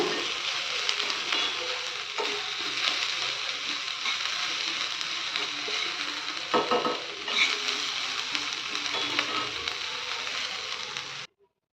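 Tempering (thalippu) sizzles and fries steadily in a pan for a savory aval kara pidi kozhukattai, a dense, continuous crackle with a few brief stirring scrapes, close and fairly loud, then cutting off abruptly near the end.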